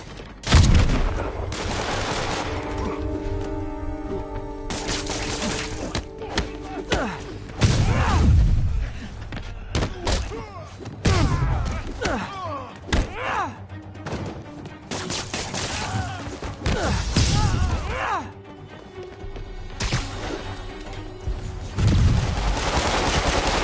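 Enemy gunmen fire on Spider-Man during a street fight in Marvel's Spider-Man, with repeated loud bursts and heavy impacts running throughout amid dense, busy combat noise.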